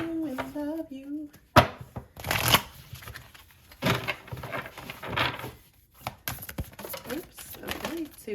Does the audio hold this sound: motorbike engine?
no